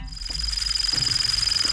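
A steady high-pitched electronic whine runs throughout with a rapid pulsing buzz and faint crackles beneath, like a toy chirp gone distorted.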